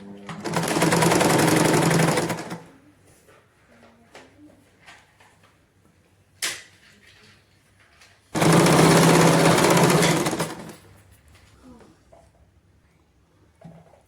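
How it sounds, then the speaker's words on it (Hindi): Sewing machine running in two long bursts of rapid, steady stitching along a palazzo pants seam, with quiet fabric handling and small clicks between the runs. "इसी तरह से ये पूरी सिलाई अब हम नीचे तक लेकर आएंगे।"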